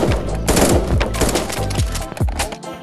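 Video game gunfire aimed at the player, rapid loud automatic bursts and repeated shots close by, with sharp whizzing impacts packed tightly together.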